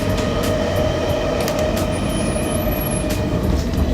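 Passenger train crossing the New Westminster Rail Bridge, heard from inside the cars as a continuous loud rumble and clatter of wheels on track, with a high thin squeal drifting in briefly midway.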